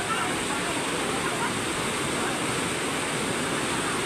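Overflowing floodwater rushes under a bridge in a loud, unbroken roar of churning water, steady and close throughout, with a voice speaking faintly beneath it.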